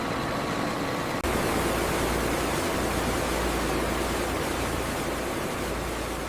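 High-pressure water curtains blast oranges clean in a juice factory washing line, a loud steady broadband rush that starts abruptly after a brief quieter moment and then holds constant throughout.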